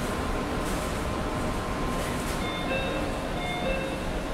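The West Express Ginga night express train pulls away, with a steady rumble and rolling noise of the rail cars and faint squealing tones, continuous and fairly loud.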